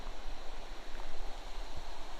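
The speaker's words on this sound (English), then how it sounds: "like there's a huge waterfall. It's like 100 foot." A huge waterfall, about 100 feet tall, roars steadily behind a hiker on a trail, a constant broadband rush of falling water with no voices.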